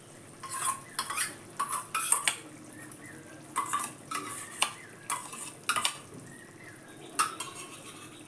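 Sour yogurt being stirred and fried into spice paste in a pan on low heat, a run of sharp metal spoon scrapes and clinks against the pan in irregular bursts over a soft, low sizzle, close and with no talking.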